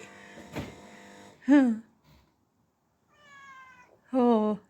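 A neighbour's cat meows twice, each a loud close drawn-out call separated by quieter pauses, with a faint vocal murmur early on.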